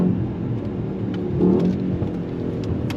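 A 2025 Mercedes-AMG S 63 sedan at full throttle gives a smooth, rising engine whir and mid-pitched roar heard from inside the cabin, swelling briefly midway, with light clicks and no speech.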